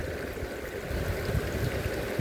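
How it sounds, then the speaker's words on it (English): A mountain creek trickles and rushes outdoors, a steady, fairly soft water noise with a low, rumbling churn underneath and no talking. "I love listening to the trickling of the water."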